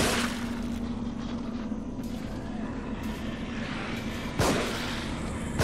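Gunshots in The Evil Within: a loud, booming shot rises above a steady dark rumble, followed by a second blast at the very end, with no talking.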